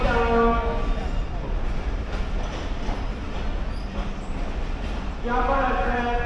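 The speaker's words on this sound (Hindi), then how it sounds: "जाफर एक्सप्रेस प्लेटफॉर्म नंबर 5 पर आ रही है।" The Jaffar Express arrives at platform 5 of a station, a steady heavy rolling rumble of wheels and cars, with sustained tonal squealing near the start and again at the end.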